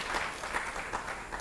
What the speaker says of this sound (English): I think we need to also give them a round of applause.